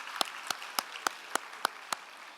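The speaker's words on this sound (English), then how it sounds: "So let's get a round of applause for Freed Photography" Seven sharp, evenly spaced claps at an awards event for a charity challenge finals, crisp and isolated over a quiet room, like one person clapping slowly.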